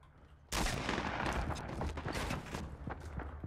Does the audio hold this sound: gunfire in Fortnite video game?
yes